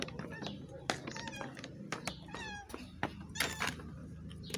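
A cat meows several times in short, rising calls, mixed with background chatter and household noise.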